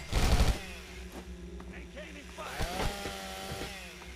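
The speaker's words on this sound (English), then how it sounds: "this dude with a fucking chainsaw behind me" A chainsaw revs in Fallout 3 as an enemy gives chase: a loud burst of buzzing engine noise at the start, then a steady idling drone beneath gameplay sounds.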